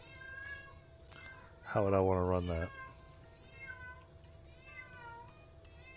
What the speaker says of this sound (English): Listen to what the cat says.